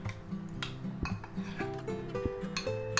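Mozzarella cheese is mixed in a bowl with a utensil, producing a string of light clinks and scraping taps against the dish at a close, moderate level.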